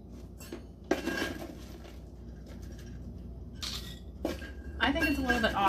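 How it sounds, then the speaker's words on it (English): Dried potato dice measured into a half-cup and poured into a glass jar for a pantry meal, making a few short bursts of light rattling and clinking against glass and metal, close by, with a voice talking between them. "we want 1/2 cup of the potato dices."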